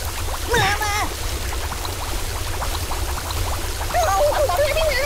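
Water pours onto a ragdoll character in the mobile game Kick the Buddy, a steady splashing stream running throughout with the character's cartoon voice chirping over it.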